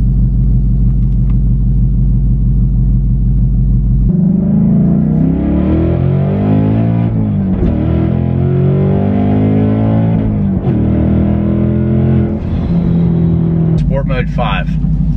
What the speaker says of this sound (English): We didn't do yet is drag mode on the car and drag mode on the device.